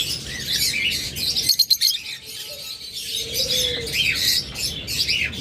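A flock of caged lovebirds at a bird seller's keeps up dense, overlapping high chirps and tweets, with a brief wing flutter or rattle partway through.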